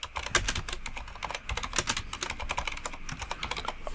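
Rapid, steady keystrokes on a computer keyboard while a name is typed in Photoshop: a close, busy stream of sharp clicks with a few louder key hits.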